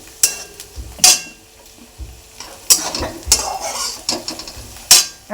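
Onion and green chili frying in a pan for kande pohe, a low sizzle broken by several sharp, loud metallic scrapes and knocks of a spoon stirring, close and uneven in rhythm, without speech.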